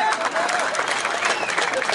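Crowd applause at a political rally speech in India, a dense, steady roar of many hands clapping throughout, loud and close, with voices mixed into the noise.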